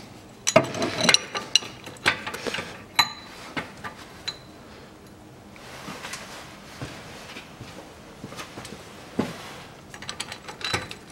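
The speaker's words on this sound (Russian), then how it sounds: "И закручиваю гайку" Ratchet wrench tightening a nut on a bushing press tool while replacing rear suspension bushings on a Toyota Harrier, with clicking ratchet and metallic clinks in irregular bursts, close and unvoiced.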